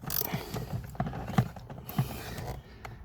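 A ratchet with an 8mm socket on an extension works a bolt loose under the dash of a 2002-2005 Ford Explorer during a blower motor resistor repair: scattered close metallic clicks and knocks, uneven in rhythm, with no talk.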